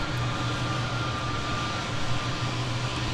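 An airliner taking off from runway 17 at Minneapolis–Saint Paul airport, a steady broad engine roar heard from a distance, continuous and even throughout.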